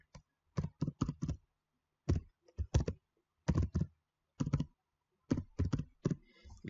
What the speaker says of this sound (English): Sorry about my noisy keyboard.